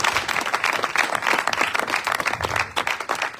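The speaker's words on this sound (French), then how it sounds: "Est-ce que nous pouvons applaudir pour lui?" Steady applause from a church congregation, dense overlapping claps holding at an even level for a few seconds without a break.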